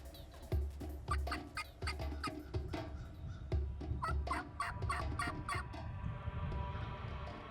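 Wild turkey gobblers, traveling without hens, gobble repeatedly in loud overlapping bursts, several birds calling close by and answering one another outdoors.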